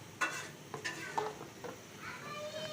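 Chicken pieces frying in a home kitchen give a faint sizzle, broken by a few light clinks and stirring scrapes of a utensil against the pan.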